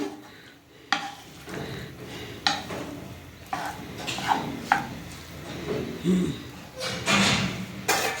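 Mutton cooking in a pressure cooker pot is stirred with a metal spoon, giving irregular clanks and scrapes against the pot over a soft sizzle, close by and steady.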